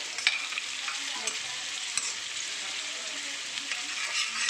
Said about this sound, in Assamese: ইয়াতে এয়া বুট ভাজি আছোঁ